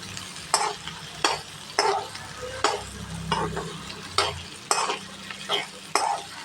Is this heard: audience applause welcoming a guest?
no